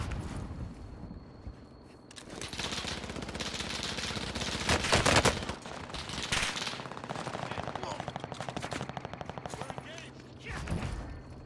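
Gunfire in the Warzone Caldera video game comes in rapid bursts of automatic fire and single shots, loud and close, with game background noise between volleys.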